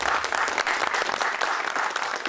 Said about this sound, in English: Nice little clap and applause for yourself there, Simon.